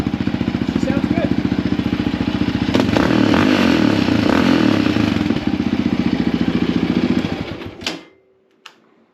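A Yamaha Raptor ATV fitted with a Yoshimura full exhaust and spark arrestor idles loudly in a garage, a steady rapid thumping that swells briefly mid-clip, then cuts off abruptly near the end, leaving near silence.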